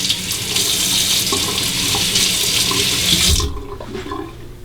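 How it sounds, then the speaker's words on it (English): A Fine Marvel safety razor is rinsed under running tap water, a close, steady splash that stops abruptly partway through, followed by small drips and handling sounds. "Let's see how it rinses out."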